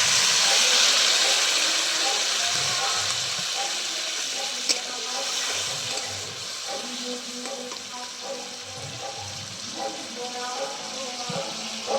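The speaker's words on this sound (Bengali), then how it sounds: "এবার এই তেঁতুল জলটা ওর মধ্যে দিয়ে দিচ্ছি।" Tamarind water is poured into a pan of frying small crab curry, giving a steady hiss and sizzle with faint bubbling and light clinks throughout, at moderate loudness.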